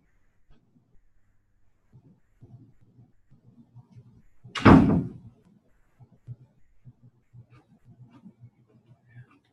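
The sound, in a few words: door being closed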